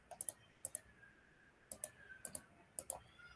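Sharp mouse clicks in quick pairs, about six double-clicks spaced unevenly across a few seconds, close and crisp over a quiet background, while playing a Tic Tac Toe game on a computer.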